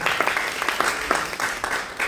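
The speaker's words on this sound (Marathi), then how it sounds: "एक बार जोरदार टाळ्या वाजवा" An audience at a Marathi stand-up comedy show bursts into loud, energetic applause, with rapid overlapping claps surging and dipping in waves across the couple of seconds.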